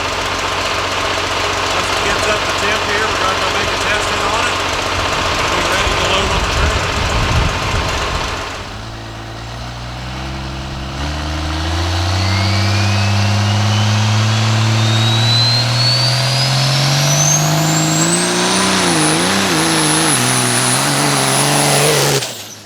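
A dirt drag race car idles loudly while warming up, with a rough, knocking engine note, then climbs through repeated revs and sweeping pitch rises as it shifts, close and dominant throughout.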